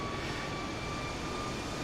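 Engine noise of a default Airbus A320 in Microsoft Flight Simulator 2020, a steady broadband jet rumble with faint tonal whines held at a constant level throughout.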